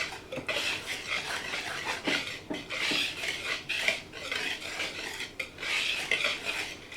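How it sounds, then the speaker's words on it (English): Food is stirred in a pot while deep frying oysters and shrimp, a close, rhythmic scraping of utensil against the pot in repeated strokes, each one slightly different, with no talk. "Keep stirring that up."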